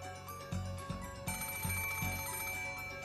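A telephone rings in the Umineko When They Cry video game, repeated electronic ring pulses over a sustained musical drone, with no talk.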